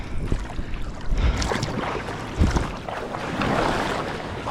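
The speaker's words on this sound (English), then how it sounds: "Check out this wave. It's rolling in." A surfer paddles out on glassy, windless water at Waikiki as an ocean wave rolls in. The wash and rumble of water rise and fall close to the microphone, with no talking.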